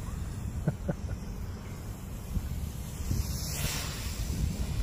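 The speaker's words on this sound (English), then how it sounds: "Wind don't really seem too bad down here." Wind blows steadily outdoors during a quadcopter flight, a constant low rushing roar with some gusty buffeting against the microphone and a few faint clicks.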